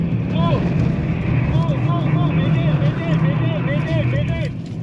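A BMW E39 held at full throttle while drifting, a sustained engine drone with warbling rising and falling tones and wind rush, heard from inside the car under an instructor's talk.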